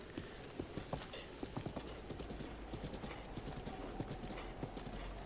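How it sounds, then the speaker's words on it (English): A horse in Zelda: Breath of the Wild gallops toward the player, its hooves clip-clopping in a fast steady rhythm throughout, fairly close, with a brief whinny-like note among the hoofbeats and no speech over it. "Let's go and call my horse."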